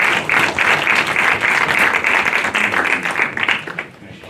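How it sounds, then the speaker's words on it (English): Audience applause for a film at an after-class Q&A, a dense steady wash of many hands clapping that continues for about four seconds and tapers off near the end, with no talk over it. "I'm having a round of applause for this great film"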